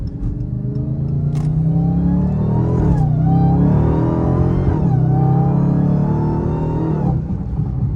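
A Dodge SRT Hellcat driven at night in manual mode accelerates hard, its engine roaring loudly up through the revs with brief dips at each of several gear changes before climbing again.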